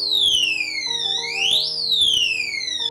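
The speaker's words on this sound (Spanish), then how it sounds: "También tenemos una alarma para la luz." A power outage alarm sounds loudly and continuously, its electronic tone sweeping down, rising sharply, then falling again in a wailing siren-like pattern, with no voices over it.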